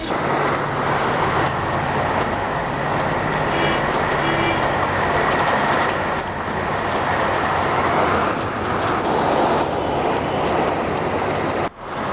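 Steady, dense rain hisses outside without a break for the whole stretch, loud and close, with a faint low rumble underneath and no talking.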